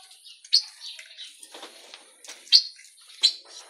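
An adult pale-breasted thrush, the sabiá-poca or bone-billed thrush, gives several brief, high-pitched chirps at close range. Each call stands out sharply against a quiet background with soft rustling between the notes.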